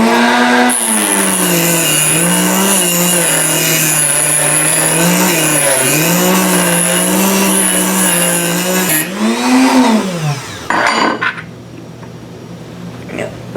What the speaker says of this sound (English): Dremel lathe works.